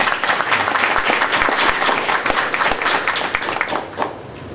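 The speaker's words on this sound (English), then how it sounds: "So let's give her a round of applause." An audience at an evening MLK Agents of Change program gives a sustained round of applause, a dense, loud, even spread of many hands clapping for about four and a half seconds.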